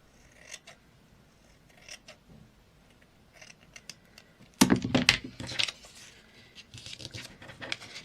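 Die-cut paper scraps are snipped in half with scissors, giving a cluster of crisp cutting and rustling sounds midway, with quieter paper handling before and after.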